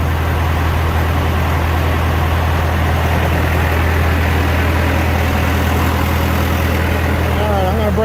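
A John Deere 450 engine running steadily during break-in, a loud continuous low diesel drone held at a constant speed throughout.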